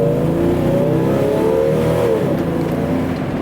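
A Jeep Cherokee Limited Sport XJ engine pulls hard at about two-thirds to three-quarters throttle, a steady loud rising drone heard from inside the cabin with harmonic tones climbing, then dipping slightly near the end.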